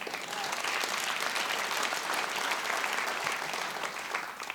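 A comedy show audience applauds steadily, a thick wash of clapping at a constant level from start to end with no voice over it.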